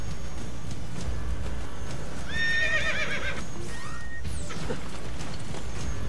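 Horse in the video game Assassin's Creed Brotherhood gives a loud, wavering neigh that rises and falls over about two seconds, followed by clip-clop hooves and a short crash, all over a dense steady game background.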